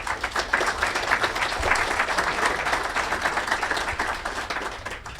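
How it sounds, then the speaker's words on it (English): Conference audience applauding a cybersecurity panel, a dense steady wash of many hands clapping at full volume throughout, thinning slightly toward the end. "let's give them all a round of applause"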